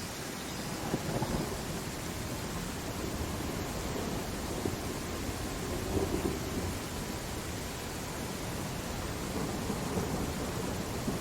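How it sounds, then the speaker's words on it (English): Steady rain pours with deep, rolling thunder throughout a storm in the Viking village-building game Land of the Vikings, a dense continuous wash of noise with no voices. "I think this is the first time we're seeing rain"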